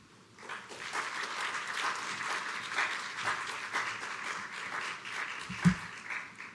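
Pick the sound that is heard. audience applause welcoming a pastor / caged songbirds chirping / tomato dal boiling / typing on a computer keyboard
audience applause welcoming a pastor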